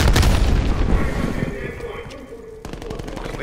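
Grenade blast in Call of Duty: Cold War Search and Destroy: a loud, close boom at the start that decays, followed by bursts of rapid gunfire, with a voice talking over the action.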